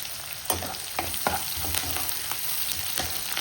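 Green chillies and curry leaves fry in a hot pan among onion pieces, a steady close sizzle with sharp crackling pops and spits every half second or so, and no talk over it.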